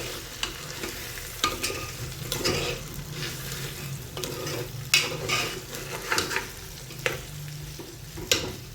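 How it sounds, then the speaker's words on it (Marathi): Broken wheat (dalia) is stirred and sautéed in a pan for khichdi, with a soft continuous sizzle under repeated scraping strokes and light spoon-against-pan clinks, close and alone without talking. "आणि आता यात दलिया टाकून घ्यायचा आहे. चांगलं परतून घ्यायचं आहे."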